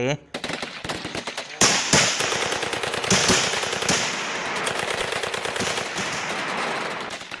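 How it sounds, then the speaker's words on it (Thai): Loud, rapid bursts of AK machine-gun and anti-aircraft gunfire from a forest line crackle continuously, dense and overlapping, with heavy sustained volleys that barely pause. "มีเสียงปืนกลอาก้าและปืนกลจานต่อสู้อากาศยาน ดังขึ้นจากแนวป่าทางด้านทิศตะวันตกอย่างสนั่นวันไหว"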